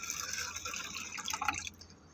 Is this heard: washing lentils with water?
yes